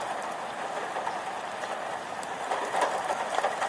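Hail falling outdoors during a film shoot, a dense steady patter of many small impacts with sharp clicks that thicken toward the end, alone without voices.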